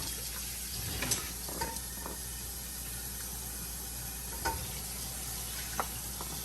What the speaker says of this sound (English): And I'm going to stir.